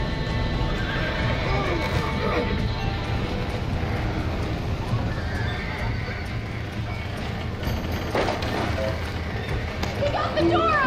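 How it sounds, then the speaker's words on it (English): A horse whinnies loudly in the Red Dead video game amid galloping clip-clop hooves and busy game ambience, with voices talking over the action. "That dumb horse!"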